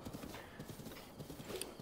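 Horse hooves galloping in Zelda Breath of the Wild, a steady rapid clip-clop rhythm running continuously at close range, with faint game ambience behind it.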